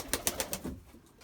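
Pigeons coo softly in a short run of four or five rhythmic notes, then fade into quiet background, nearby but faint.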